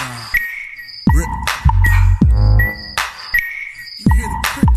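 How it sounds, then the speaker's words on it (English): Crickets chirp in time with a hip-hop beat, bright repeated chirps sitting over punchy kicks and bass hits in a steady rhythmic loop. "You hear the crickets on the beat?"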